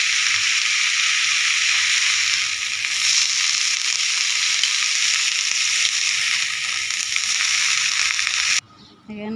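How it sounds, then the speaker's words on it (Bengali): Chili frying in hot oil with bathua greens, a close, steady hiss of sizzling that holds for about eight and a half seconds before cutting off abruptly. "মরিচটি ভেজে নেব"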